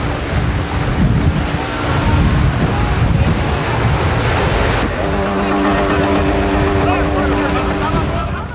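Waves wash onto a Greek island beach with a steady roar, wind buffeting the microphone; a low engine-like hum joins partway through.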